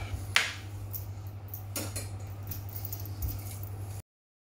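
A knife set down and handled beside a turkey being trussed with string, two faint metallic clinks over low steady hum in a quiet kitchen.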